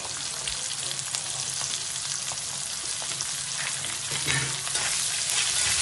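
Onions fry in hot oil with whole garam masala for Bengali mutton kosa, a steady close sizzle with faint scraping of stirring, slightly louder toward the end, no voices.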